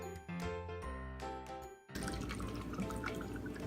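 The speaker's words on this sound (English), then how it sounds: "here we have room temperature water that we're going to pour into these cups." Room-temperature water is poured into cups during a Kangen water demo: light clinks and trickles come first, then a fuller, continuous splashing pour, close and fairly quiet.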